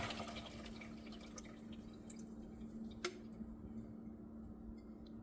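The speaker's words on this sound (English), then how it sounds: "you want to save your brine, so we're just gonna pour it into this strainer" Pickle brine poured from a fermenting jar into a strainer, heard as faint dripping and trickling liquid with a low steady hum beneath and one brief sharp tick midway.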